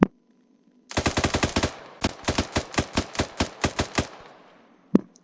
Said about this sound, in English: it's the L110 A1, sorry guys, it should sound the same.